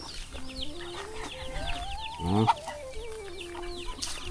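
Chickens cluck and chatter close by in a remote forest village with no electricity, with a rooster's rising call and a brief burst of squawking in the middle, over a noisy farmyard background.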